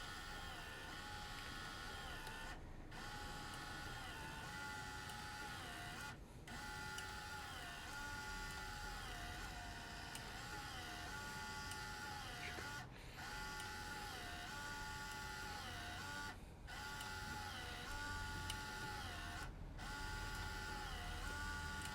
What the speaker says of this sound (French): Je vais pouvoir appuyer sur le bouton impression. Donc là, ça va imprimer mon test de combustion